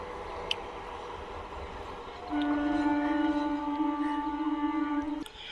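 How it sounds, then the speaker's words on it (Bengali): A train passes quickly near Budge Budge station: a faint rumble swells into a louder, sustained droning tone with a metallic hum, holding for about three seconds before cutting off abruptly, heard from close by. "সেই ছবিটা কত দ্রুত গতিতে চলে গেল ট্রেন"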